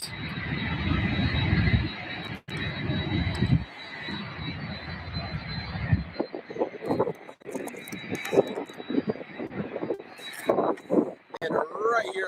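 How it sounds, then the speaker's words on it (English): Boeing 747-400 cargo jet at SDF airport, a loud broad engine roar that fades into a distant hum while someone talks over it. "Skylee's Cargo off to Miami on a 747-400."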